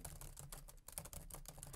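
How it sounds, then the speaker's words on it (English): Huawei Matebook X laptop keyboard with clicky feedback keys: a quick run of light, crisp keystrokes, faint and close, in an irregular typing rhythm with one brief pause. "it's one of those more clicky feedback keyboards"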